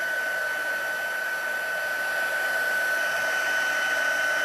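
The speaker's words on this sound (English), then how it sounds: "So I've got a heat tool going, and I'm just going to heat this up, and it sets it so it embosses it in a metallic." A heat tool blows steadily and loudly to melt metallic embossing powder on an autumnal handmade card, a constant whooshing hiss with a sustained high whine that runs unbroken throughout.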